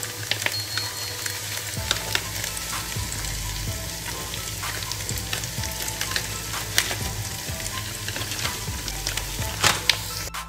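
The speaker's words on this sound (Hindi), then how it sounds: "अब हमने इसमें ऐड कर लिया अदरक लहसुन का पेस्ट और इसे हम हिला के मिक्स कर देंगे अदरक लहसुन के पेस्ट को" Ginger garlic paste fries in hot oil for mutton yakhni pulao, a continuous close sizzle broken by periodic scraping and clanking as a spoon stirs the pan.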